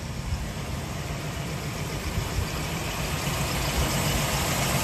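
A 1971 Chevy Impala convertible idles steadily with a smooth, even low rumble, moderately quiet and alone, with a slight exhaust leak at the collector echoing off concrete.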